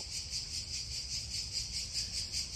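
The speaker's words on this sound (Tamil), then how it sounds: "பயங்கர வண்டு சத்தம் காதை கொள்ளுது" Loud, continuous high-pitched buzzing of beetles or insects outdoors, pulsing steadily in a dense droning chorus with no voices.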